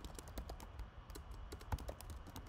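Rapid, light keystrokes on a computer keyboard, a steady stream of close, quiet clicks with one slightly heavier tap near the end, no voices.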